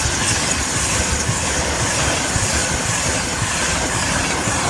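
A train, 82213 with 91130, roars straight through platform 2 at Newark Northgate at close range, a loud continuous rumble with rhythmic clattering of wheels over the rails.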